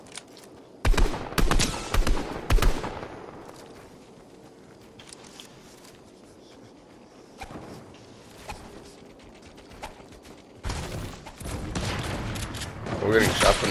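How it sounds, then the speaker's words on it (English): Fortnite gunfire erupts in rapid bursts of shots, loud clusters at the start and end with quieter stretches between, while players talk over the action. "We're getting shot from the back too"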